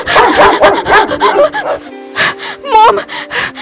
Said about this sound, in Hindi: अरे ये डॉगी भौंक क्यों रहा है?